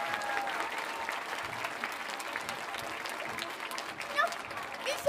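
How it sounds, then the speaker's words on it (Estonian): Applause from the audience at a Tallinn kindergartens' children's song festival, a steady dense clapping that runs throughout at moderate distance, with faint crowd murmur underneath. "meil on üks aplaus tegemata veel kord"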